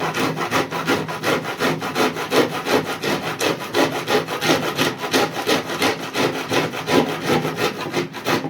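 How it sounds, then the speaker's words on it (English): Fresh maize cob halves are rubbed hard against a hand grater in quick, even rasping strokes, a steady close-up scraping rhythm that continues without pause and without talk, part of preparing steamed fresh corn bread. "So I will continue grating until we get all the corn off"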